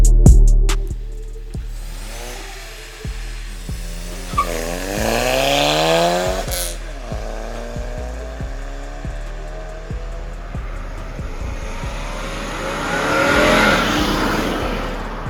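Tuned Stage 2 Skoda Laura TSI and Stage 2 Abarth Punto cars accelerate hard down an empty straight. Loud engine revs climb repeatedly in pitch through gear changes, with sharp clicks and rushing air noise.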